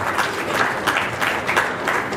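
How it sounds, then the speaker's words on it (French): An audience at a press conference claps steadily throughout, a dense wash of applause with no voices on top. "On peut applaudir"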